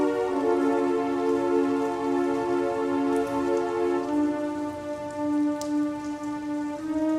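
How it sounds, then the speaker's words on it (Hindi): Heavy rain pours down steadily in an animated story, a dense hiss lasting throughout beneath a sustained tonal drone, with no voices. "बीच रास्ते में तेज बारिश आ जाती है"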